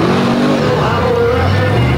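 Monster truck engine during a freestyle run at an arena show, a loud sustained roar that shifts pitch as it revs, with an announcer's voice over it.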